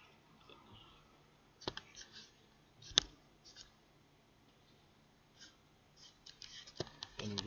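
Computer mouse clicks sound sharp and close, with sparse single and paired clicks scattered over a quiet background during bookkeeping software use.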